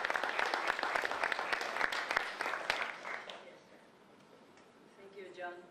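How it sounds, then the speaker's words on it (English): Audience applause at a poetry festival reading in Limerick, steady clapping from a modest crowd for about three seconds that fades away, followed by quiet room tone and the start of a voice. "Applause for Beatriz."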